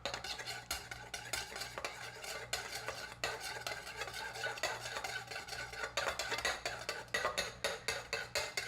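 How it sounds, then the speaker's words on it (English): Thousand Island dressing sauce being stirred in a small dish with a utensil, making quick rhythmic scraping and clinking strokes, close and continuous, with no talk. "now let's go ahead and stir this up"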